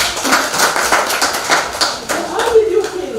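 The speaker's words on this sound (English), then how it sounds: "Thank you, clap for her." A group at a student progress meeting claps in a short uneven burst, individual hand strikes audible and fairly close, fading after a few seconds while a voice speaks faintly underneath.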